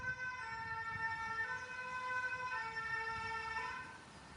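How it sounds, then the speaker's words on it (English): An ambulance siren wails steadily along a street, loud and near with rising and falling tones over low road rumble, then fades slightly at the end. "just another ambulance"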